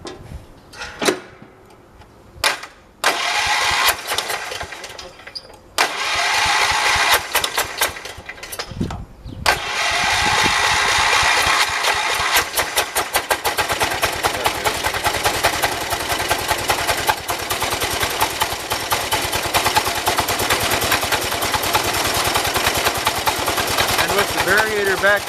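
A 1978 Shifting Gears 208 engine cranks in a few short bursts, then catches and runs steadily with a continuous mechanical roar, close and loud, throttled up through the second half.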